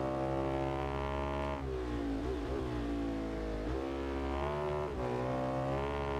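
A small Bimota motorcycle engine in the racing game RIDE 2 drones loudly and steadily, its pitch dipping and climbing through several gear changes, alone with no speech.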